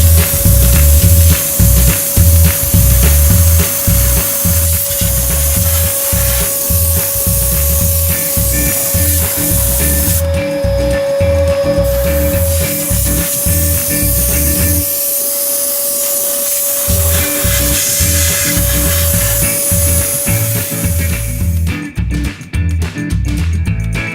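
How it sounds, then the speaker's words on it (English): An air compressor spray nozzle blasts air to clean dust out of a furnace. It gives a loud, close, continuous hiss that pulses rapidly and cuts out briefly twice before ending. "I have an air compressor and I have a spray hose on it, nozzle."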